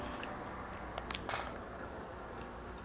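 Someone bites and chews crunchy, slightly burnt potato cakes during a brunch mukbang, with close, moist chewing and a few sharper bites over a quiet room.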